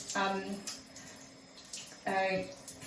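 Shower water running down over a baby being bathed, splashing in two louder bursts with a quieter steady trickle between them, fairly close.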